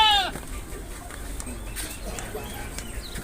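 A goat tethered at a village home in a Maithili comedy gives one short, nasal bleat right at the start, then quiet room noise with faint movement follows.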